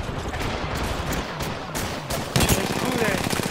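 Gunfire crackles in the video game Apex Legends, a steady stream of close, overlapping shots with sharper bursts toward the end, mixed with other battle noise.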